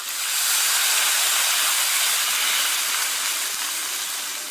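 Loud, steady steaming hiss as water hits a hot iron wok of stir-fried pork seasoned with a little salt, rushing on without a break throughout.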